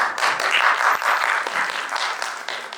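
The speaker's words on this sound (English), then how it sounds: "A huge round of applause for ma'am." An audience at a medical talk on gynaecological disorders claps for Dr. Sadia Rafiq, a dense, steady burst of many hands that runs close and full for a few seconds before thinning slightly at the end.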